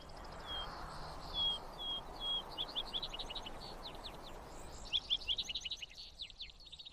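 Birds sing in a wood stirred by a light breeze. Bright repeated chirps and short trills come in bursts over a soft, airy background hiss, fairly close and clear, with no voices.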